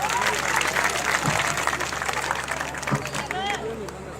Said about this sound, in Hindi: अपने बच्चों के लिए जोरदार तालियां।